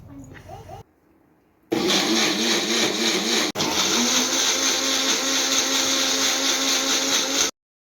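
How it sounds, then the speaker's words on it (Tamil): A mixer grinder whirs loudly and steadily while grinding juice with sugar, after a brief start-stop, with a momentary break mid-run before it carries on and cuts off sharply. "மிக்சரில் போட்டாச்சு இப்போ வந்து நம்ம கிரைண்ட் பண்ணி"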